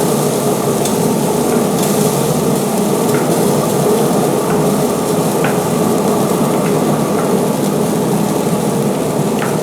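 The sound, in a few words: stirring potatoes frying in a pan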